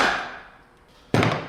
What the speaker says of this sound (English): take our chisel, bend in one of these corners, and it's supposed to help it keep from coming undone.